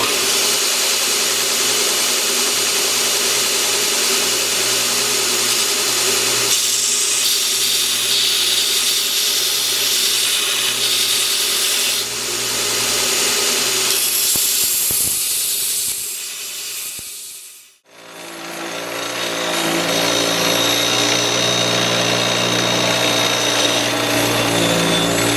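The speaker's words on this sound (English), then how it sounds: "we're just going to sand the edges, square them up real nice" A power sander grinds along the edges of a cut steel sprocket, squaring it up, with a loud continuous abrasive hiss that drops away briefly near the end before resuming.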